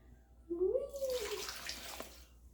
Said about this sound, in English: pour the vinegar in. Right there by your elbow. Nice and slow, please.